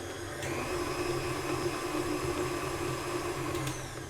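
An electric mixer whirs steadily as it blends cinnamon roll cookie dough ingredients with vinegar, a close, even motor drone with faint clicks near the start and end.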